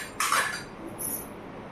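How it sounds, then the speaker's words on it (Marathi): Water sloshed and swirled inside a churning pot during rinsing, a short splashy burst followed by a faint clink of metal, close and brief. "रवी भांड्यामध्ये पुन्हा आपण पाणी टाकूया आणि असं स्वच्छ धुवून घेऊया"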